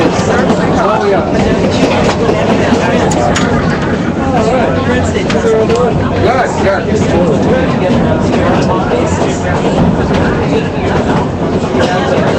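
A Durango and Silverton railroad train rolls along mountain tracks with a continuous rumbling clatter, heard from aboard the ride, while people chat steadily over the mechanical noise.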